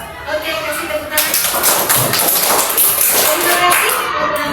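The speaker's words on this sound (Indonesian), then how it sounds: "Oke, kasih tepuk tangan." Sixth-grade children clap hands together in a classroom after a group presentation, loud, close, uneven clapping that starts after a brief pause and continues with some taps and thumps.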